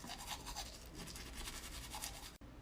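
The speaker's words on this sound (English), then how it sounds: "and I brush my teeth." Someone brushes their teeth with a toothbrush, a close, quiet, continuous rhythmic bristle scrubbing that runs for a couple of seconds and then stops abruptly.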